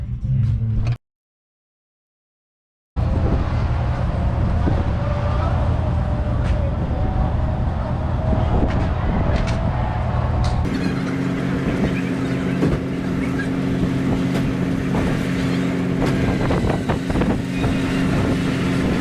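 Steady wind buffets the microphone with a constant low roar in Indiana, broken by a short silent gap and joined later by a humming engine.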